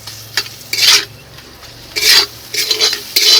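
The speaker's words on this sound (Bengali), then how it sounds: "এখন দিয়ে দেবো ক্যাপসিকাম কুচি এখন সুন্দর করে কষিয়ে নেব" Chicken keema with chopped capsicum sautéed in a pan, with several bursts of spoon-on-pan scraping and stirring between quieter stretches of low sizzle.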